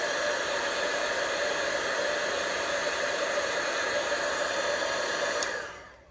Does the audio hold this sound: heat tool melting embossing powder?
yes